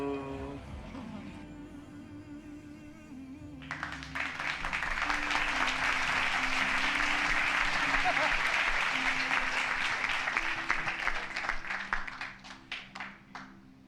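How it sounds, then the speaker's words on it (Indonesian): A church congregation bursts into lively applause after a short stretch of voice and music, holding a full, dense clapping that thins into scattered claps near the end while soft music continues underneath. "kasih tepuk tangan nih meriah buat Tuhan kita"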